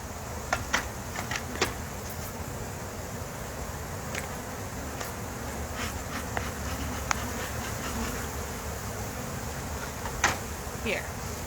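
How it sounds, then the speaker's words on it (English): Many honey bees buzzing around an open hive, a steady droning hum with individual bees zipping close past now and then, moderately loud and unbroken. "That is a lot of bees."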